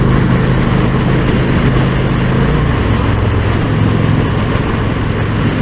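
2019 Indian Springfield Dark Horse motorcycle engine at full throttle, a loud, dense, unbroken roar with heavy wind buffeting, steady throughout with no voices.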